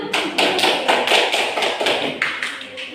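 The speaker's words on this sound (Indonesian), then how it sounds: "Yuk, beri tepuk tangan dulu." A classroom group gives a round of hand clapping, a steady run of quick, evenly spaced claps carrying on for the whole stretch at a moderate level.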